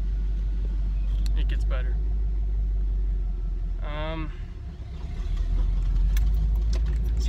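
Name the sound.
truck engine rumbling while driving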